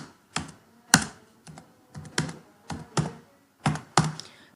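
Typing on a computer keyboard: about ten sharp, separate key clicks and taps at an uneven pace, some louder than others, recorded close with silence between strokes.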